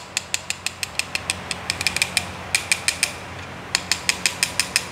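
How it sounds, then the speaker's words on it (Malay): A metal part of a motorcycle clutch plate is tapped repeatedly, producing a quick, regular series of sharp, bright metallic clinks with brief pauses, close and clear with no talking. "Yang kedua korang boleh ketuk. Okey, bunyi besi macam ni."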